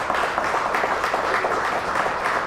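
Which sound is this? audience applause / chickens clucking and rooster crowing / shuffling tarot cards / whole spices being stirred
audience applause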